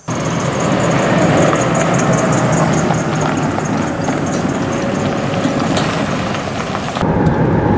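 A Harley-Davidson 103 Twin Cam motorcycle rides down the road with a loud, steady engine drone and wind rush, close and continuous, with no talking.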